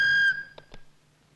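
In a Malayalam movie scene, a telephone's steady electronic ring sounds briefly, then cuts off and is followed by two soft clicks.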